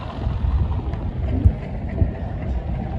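Rough wind blast and a low motor drone from a banana boat speeding over the water, with a few thumps as it hits the waves, steady and loud throughout.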